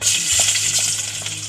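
Garlic fries in oil in a pan, a loud, continuous hissing sizzle with soft crackles, up close and without voices.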